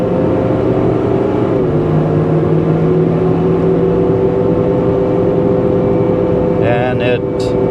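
A 2015 ambulance engine accelerating, a loud continuous drone with tones that slowly rise and shift, running steadily throughout.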